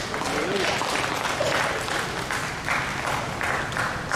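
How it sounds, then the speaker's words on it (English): A church audience claps together in a sustained burst of applause, loud and close, with scattered crowd noise mixed in. "Sometimes, the clapping was so nice, I love it."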